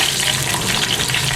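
Onions sizzling in hot oil with roasted spices for karahi gosht, a steady close frying hiss with faint stirring, no voices.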